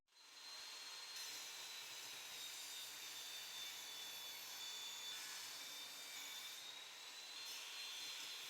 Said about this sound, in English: On these 4 parts, I will cut both sides to clean and remove the joints.